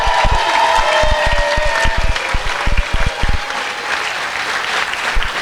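A live crowd applauds and cheers for a performer named Jean, with thick sustained clapping, scattered whoops and rhythmic thumps underneath, loud and continuous throughout.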